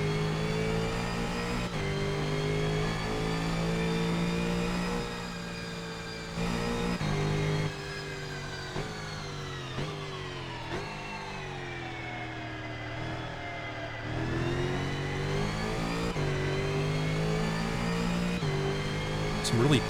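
A Guerilla mods car in the Assetto Corsa racing game, its engine revving steadily up and down through gear changes for about twenty seconds, loud and close, with no speech over it.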